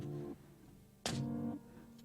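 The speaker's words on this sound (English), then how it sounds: "So basically only the touch sounds from when the piano's played." Piano noise layer from the Una Corda plugin by Native Instruments, isolating only key and mechanism touch sounds: two soft, muffled thumps with brief clicks, fairly quiet and close, separated by a short pause.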